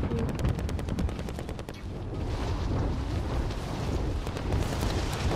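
SMG fire in the Warzone video game: a fast, continuous automatic burst that rattles evenly for several seconds and is then followed by heavy, steady gunfire and rumble.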